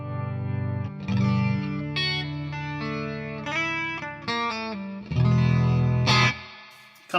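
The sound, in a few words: guitar chorus effect pedal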